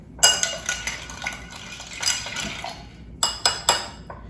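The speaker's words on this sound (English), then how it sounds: "We'll add some ice to our glass and give this a good stir." A Rob Roy of Scotch, sweet vermouth and bitters is stirred with ice in a mixing glass, giving a run of close, bright clinks and rattles of ice against glass, with a few sharper taps near the end.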